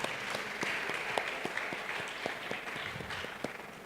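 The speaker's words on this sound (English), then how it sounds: "So let's clap for ourselves." Conference audience applauding in a hall, a dense, steady round of many hands clapping at moderate distance, sustained throughout.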